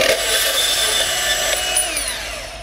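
A DeWalt DCS374 cordless deep-cut band saw slices through half-inch EMT conduit, a steady loud whirring cut with a metallic edge that tapers off as the blade finishes.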